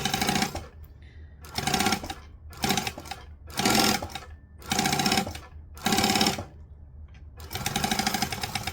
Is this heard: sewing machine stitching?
yes